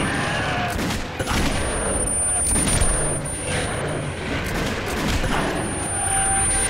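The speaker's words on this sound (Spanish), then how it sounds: "Escopeta." Gunfire bursts from the video game Metro 2033 Redux, a shotgun firing in several sharp, loud blasts over a busy in-game soundscape, with faint talk in between.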